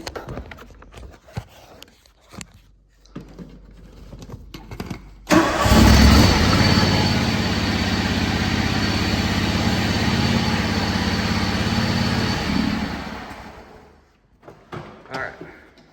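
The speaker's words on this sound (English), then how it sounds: "drop those lymph links down by starting the tractor back up" A John Deere X540 lawn tractor engine cranks and catches, then idles steadily and loudly for several seconds before shutting off, with quieter handling sounds before and after.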